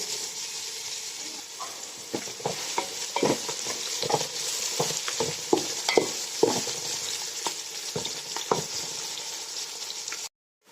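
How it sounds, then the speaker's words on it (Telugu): Onions and green chillies sizzle in hot oil with whole garam masala, frying toward golden, a steady crackle broken by repeated scraping stirs of a spoon against the pan, with no one speaking. "ఇప్పుడు ఆనియన్స్, పచ్చిమిర్చి వేయాలి. ఇది కొంచెం గోల్డెన్ కలర్ వచ్చే వరకు వేయించాలి."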